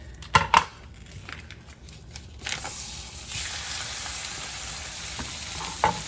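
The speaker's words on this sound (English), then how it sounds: "I added a little olive oil and I bumped up the heat to medium-high. We're gonna cook up our steak." Thin steak fries in olive oil in a pan over medium-high heat, a steady close sizzle that swells after a few spatula clatters and continues without talk.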